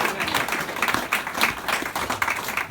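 Audience applause at a retirement speech, a lively burst of many hands clapping with uneven loud peaks, no talk over it.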